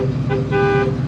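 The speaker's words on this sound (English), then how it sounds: "Horn works." A 1969 Ford Mustang Fastback's horn honks twice in quick succession, a short toot followed by a longer blast, loud and close over a steady idling engine rumble.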